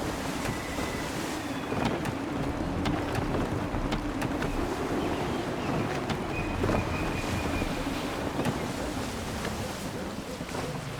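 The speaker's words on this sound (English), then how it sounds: "Gusty winds can be difficult to manage." Gusty wind and sea noise aboard a sailing ship in the video game Assassin's Creed III, a steady broadband rush of wind and waves with faint creaks, continuous and fairly loud throughout.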